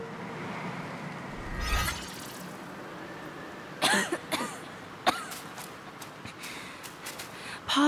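A character in the video game Black Myth: Wukong coughs in a few rough, throaty bursts with pauses between them, over quiet ambient game sound.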